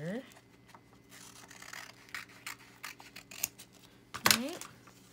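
Scissors snip away part of a paper journal page, making quiet rustles and small cuts followed by one sharp, close snip near the end, with no speech.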